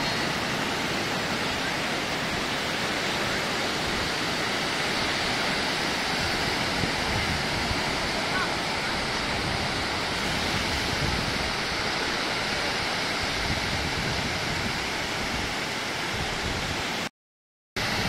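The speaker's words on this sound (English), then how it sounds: "They're surfing here, so the waves are pretty big." Steady, roaring surf washes continuously on a Barcelona beach, big surfing waves breaking in a broad rush with no pauses, loud and close.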